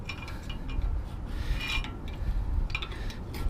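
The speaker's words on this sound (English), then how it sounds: "I needed to get like a little flathead to kind of wedge it out" A flathead screwdriver pries an old brake pad out of a 2012 Acura TSX caliper, giving continuous low scraping and rubbing with a few brighter metallic scratches, close and steady.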